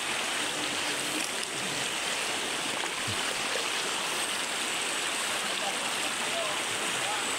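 Steady rushing river water flows continuously at close range, a broad hiss with no pauses.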